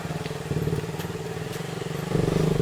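A motorcycle rides off-road up a climb on a mountain trail, its engine chugging steadily and close with a rougher surge near the end.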